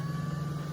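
Ryobi 40V Kinetic battery-powered log splitter with its flywheel spinning up, a steady mid-pitched motor hum with a faint higher whine, running alone and close for under a second.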